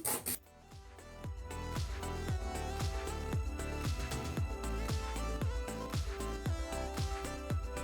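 A file shortens a gel nail in quick repeated back-and-forth strokes, a close, rhythmic scratchy rasping that keeps a steady pace.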